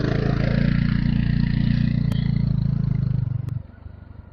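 A scooter engine drones loud and close with a steady low hum on a rainy Hyderabad street at night, then fades quickly as it speeds away over the last second.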